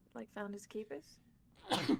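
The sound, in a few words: sneeze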